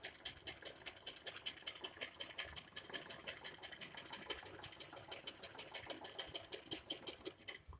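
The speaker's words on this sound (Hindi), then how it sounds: "अब हम इस साइड सिलाई लगा लेंगे।" A sewing machine stitches a seam on a floor-length wedding gown, running steadily and close with a fast, even rhythmic needle patter throughout, and no voices.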